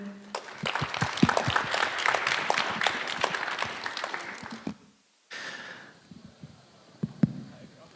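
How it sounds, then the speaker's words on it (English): A conference audience applauds panel speakers at the Penn Blockchain Conference, a dense run of clapping lasting several seconds, then a short silence and a few scattered claps as someone begins speaking. "A round of applause for the speakers here."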